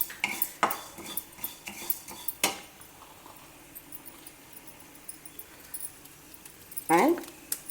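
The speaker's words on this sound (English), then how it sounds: "Dry roast these for a couple of minutes" Coriander seeds and whole spices dry roasting in a pan, with a utensil scraping and tapping the metal in scattered clicks and a louder rattling burst near the end, over a quiet background.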